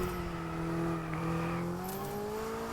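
An F1 race car in F1 22 at the Austria Grand Prix accelerates hard, its high-pitched engine whine climbing steadily in pitch, loud and close with no talk over it.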